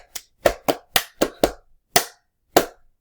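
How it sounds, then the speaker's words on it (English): Hands pat and clap in a steady repeating pattern: a series of sharp, close, dry slaps spaced about half a second apart, with longer gaps between the last few, and no voices. "Pat, pat, clap."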